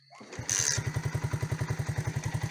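A freshly repaired Musstang Alpha motorcycle engine starts up and settles into a loud, rapid, rhythmic putter right up close.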